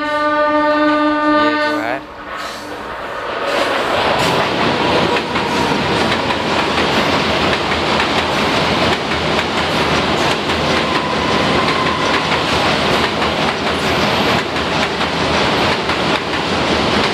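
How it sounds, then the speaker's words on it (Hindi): A train races past at high speed near Sangam Ghat in Muzaffarpur, Bihar. Its horn sounds first, then a loud, steady roar of wheels and rushing cars fills the rest of the long pass. "ट्रेन की रफ्तार तो मानो कि यार बहुत स्पीड थी"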